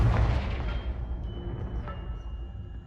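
Confringo explosive spell from Hogwarts Legacy, a loud booming blast at the start that decays into a rumbling tail, with a faint sustained magical tone trailing after it.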